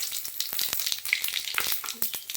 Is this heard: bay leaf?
yes